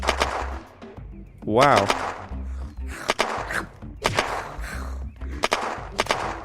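Repeated UMP gunfire in the video game Unturned, several sharp bursts spaced about a second apart, loud and close, with a brief exclaimed word partway through.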